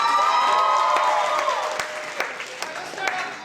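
Audience applause and cheering from seniors and parents at a high school senior all-nighter, loud at first with a few high whoops, then thinning out into scattered claps.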